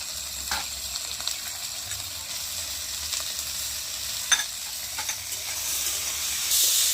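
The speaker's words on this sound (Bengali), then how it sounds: "আবার একটু নুন আর হলুদ দিয়ে আমি কষে নিচ্ছি।" Carrots and green beans sautéing in hot oil with salt and turmeric, a continuous close sizzle with occasional stirring scrapes and small crackles, no talking.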